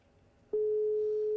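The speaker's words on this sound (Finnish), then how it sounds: "Soi." Phone ringing tone on a call, a steady sustained electronic tone that starts abruptly after a moment of quiet and holds loud and unbroken to the end.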